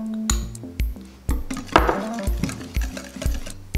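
An egg goes into a mixing bowl with a series of sharp clinks and taps against the bowl, close and fairly loud, heard alone.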